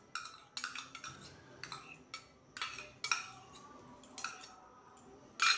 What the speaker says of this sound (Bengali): টক দইটাকে ভালো করে ফেটিয়ে নিয়ে